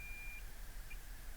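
Faint continuous multimeter beep while probing pads on a saltwater-damaged iPhone logic board, a steady thin tone over low background hum, quiet and close.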